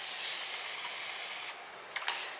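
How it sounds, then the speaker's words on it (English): Hair spray hisses from an aerosol can onto hair edges, a steady spray for about a second and a half, then stops, followed by a couple of short spritzes close by. "I'm gonna just spray my edges"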